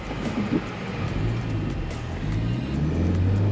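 A car on a highway road trip accelerates, its engine hum rising steadily beneath constant road and tire noise heard from inside the cabin, growing louder toward the end.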